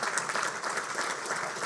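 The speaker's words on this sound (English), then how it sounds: "I really want to get a round of applause for John and Jack for doing this." An audience at a family office symposium claps for two people, a dense, even burst of applause from a crowd filling the room without pause.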